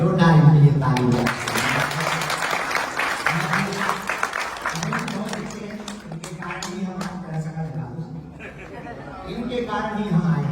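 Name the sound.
audience applause in a temple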